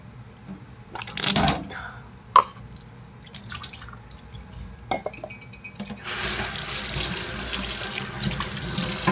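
Water runs from a tap, a continuous splashing stream over a sink that grows steadier and fuller in the second half, with scattered drips and clinks before it.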